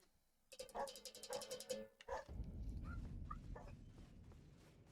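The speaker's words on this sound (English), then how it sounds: "And a barking dog." A dog barks a few times faintly in the background, distant and muffled, amid other household noise while someone plays a video game.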